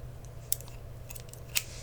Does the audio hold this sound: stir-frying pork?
no